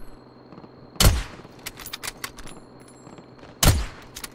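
Two heavy gunshot bursts from Call of Duty Warzone during a tournament match, each a sharp loud crack with a decaying tail, about two and a half seconds apart over faint background game noise and scattered clicks.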